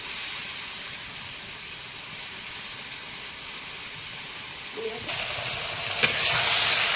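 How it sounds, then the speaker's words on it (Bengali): Sliced onions fry with ginger-garlic paste in a pan during Sundarban cooking, giving a steady, close sizzle with stirring, which grows a little louder and brighter toward the end. "আদা রসুন বাটাটা দিয়ে একটু ভেজে ভেজে নেব"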